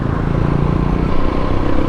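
Motorcycle engine droning steadily up close while riding through a small town, a continuous low rumble with rattling clatter and no pauses.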